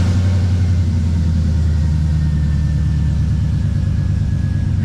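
A cold LS-swapped Squarebody pickup truck engine runs at a steady, low rumbling idle up close, its droning hum constant from start to finish with no talking.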